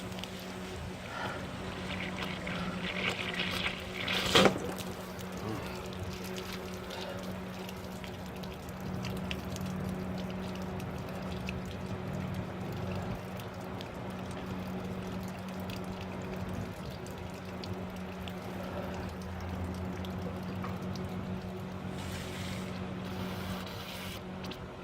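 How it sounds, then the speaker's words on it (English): A garden hose runs water into an RV hot water tank to flush out settled sediment, giving a steady, continuous rushing and trickling wash with a low hum underneath and one brief clunk near the start. "I'm going to take a garden hose and run it up in the tank and let it run out."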